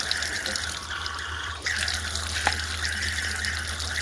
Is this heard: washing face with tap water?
yes